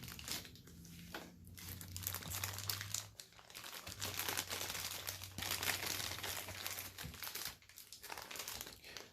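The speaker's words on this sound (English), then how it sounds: "We're going to take all the little plastic off of her." Crinkling plastic wrapping being pulled off a Kotobukiya Bishoujo Beetlejuice figure, a steady close rustle and crunch lasting several seconds with a low hum underneath and no talking.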